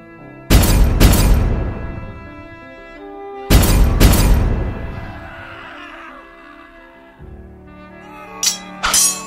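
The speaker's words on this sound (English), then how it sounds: "Fire the cannons." Toy cannons fire in a stop-motion battle scene: two loud booming blasts, each a pair of quick bangs with a trailing rumble, then a couple of small sharp pops near the end.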